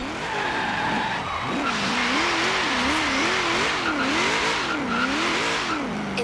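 A car in the Forza Horizon 3 racing game revs hard with a wavering engine pitch while its tires squeal and skid through turns, loud and continuous from start to finish with no talking.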